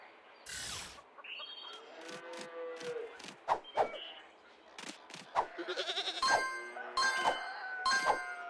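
Several short, bright sheep bleats scattered among game effects, clicks and cheerful background tones from Paw Patrol: On a Roll! on PS4, with the clearer calls coming in the second half at moderate loudness.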